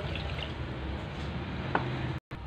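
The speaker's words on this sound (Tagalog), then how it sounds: "Lagyan natin ng kalahating baso ng tubig." Half a glass of water poured into a pot of chicken adobo with soy sauce, pepper and garlic on the stove, a soft continuous splashing fill over a steady background hiss, with one brief sharper splash near the end.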